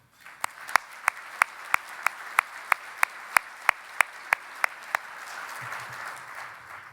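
Applause for a sponsor at a security industry conference keynote, heard as a steady, evenly spaced run of sharp close claps over a soft background of wider audience clapping.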